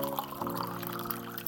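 Water poured from a cup into a pot on a gas stove for wheat pathiri, a steady close pour with a rising fill tone, no talking.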